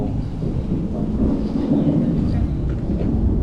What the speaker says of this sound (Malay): Hujan geng, hujan.